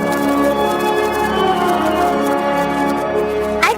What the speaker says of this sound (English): You'll know it's time to turn the page when you hear the chimes ring like this.